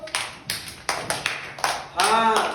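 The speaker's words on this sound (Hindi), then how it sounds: "ताली बजाओ" Hands clap in a quick, uneven series of sharp slaps, close and fairly loud, followed by a voice speaking near the end.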